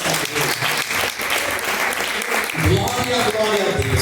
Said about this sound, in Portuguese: Mais uma vez as palmas